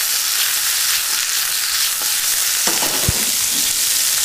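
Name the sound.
asparagus sizzling in hot olive oil with chili flakes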